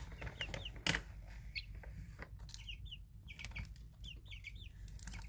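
Young backyard chickens peep and cluck in short bursts, with a brief wing flap or bump early on, against a low rumbling background while being given food.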